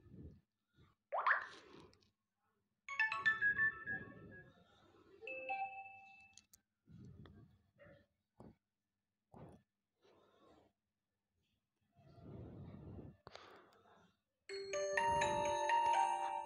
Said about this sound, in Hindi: मुझे ये पसंद है, बेल।